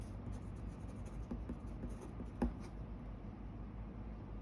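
Pen or chalk writing by hand during a Class 10 trigonometry maths lesson, faint scratchy strokes with one louder tap, over a steady low room hum.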